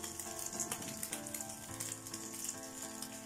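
An egg noodle sheet fries on its second side in a pan, giving a steady close sizzle with faint crackling pops and an occasional scrape.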